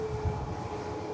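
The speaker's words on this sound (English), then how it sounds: "the Emirates triple lines itself up on 23 left for departure back to Dubai" Steady broad roar of an Emirates Boeing 777 lining up on runway 23 left at Manchester Airport for departure to Dubai, heard from a distance with a constant engine drone.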